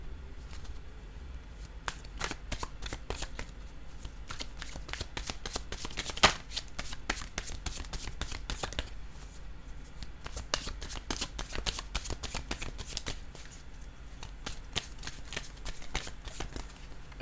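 A deck of cards is shuffled by hand at length, a dense close run of rapid riffling snaps and flicks at a steady pace, with no voices.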